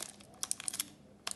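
Scissors cut paper in a handful of quick, faint crisp snips and crinkles, bunched in the middle and again near the end, with quiet room sound between.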